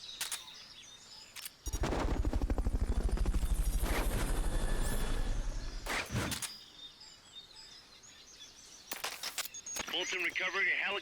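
A Fulton recovery helicopter from the video game Metal Gear Solid: Peace Walker whirs in with a loud, rapid rotor chop for several seconds, then breaks off into sharp bursts and scattered game effects.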